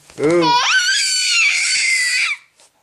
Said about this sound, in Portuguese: É, com os teus gritos aí.